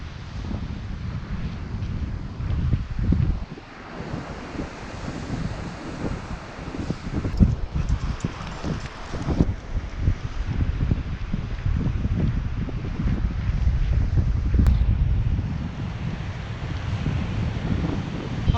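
Strong winter wind on the coast at Lignano Sabbiadoro, Italy, buffets the microphone in continuous gusts, a loud rushing roar with no voices.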